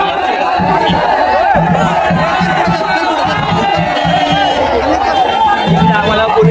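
Dense, loud babble of a large crowd packed along a festival procession route, many voices chattering at once close around without pause.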